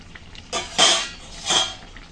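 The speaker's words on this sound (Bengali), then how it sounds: "এবার একটু সুন্দর করে ডালগুলো আমি একটু মিশিয়ে নেব" A spoon scrapes and knocks against a pot while cooked mung dal is stirred, giving three or four short metallic clinks close by, with quiet gaps between them.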